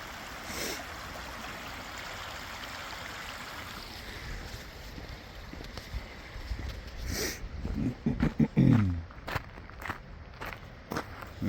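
A stream flows under a bridge in a park on a chilly winter day, a soft steady rush of water beneath the crunch and thud of footsteps crossing the bridge, with a few louder scuffs near the end.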